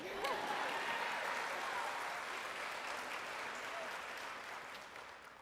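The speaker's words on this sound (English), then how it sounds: "You can clap." An audience applauds at a nurses' pinning ceremony, a sustained, even round of clapping that slowly fades toward the end, with a voice briefly audible early on.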